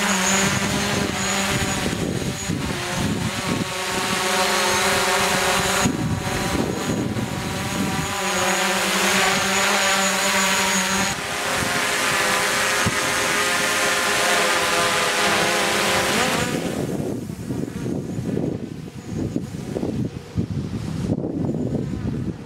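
A DJI Mavic Pro drone flying in sport mode gives a loud, steady propeller whine with sustained tonal buzzing throughout, briefly shifting in pitch as it turns, with no talk.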